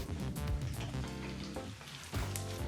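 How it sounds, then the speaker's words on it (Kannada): Chana dal and urad dal frying in hot oil and ghee give a soft, steady sizzle and crackle, close and quiet, with no talking. "ಒಂದು ಟೇಬಲ್ ಸ್ಪೂನಷ್ಟು ಉದ್ದಿನಬೇಳೆನ ಹಾಕಿ ಸರಿಸುಮಾರು ಒಂದು ನಿಮಿಷಗಳ ಕಾಲ ಬಿಸಿಯಾದಂಥ ಎಣ್ಣೆ ಮತ್ತು ತುಪ್ಪದಲ್ಲಿ ಫ್ರೈ ಮಾಡ್ಕೋಬೇಕು"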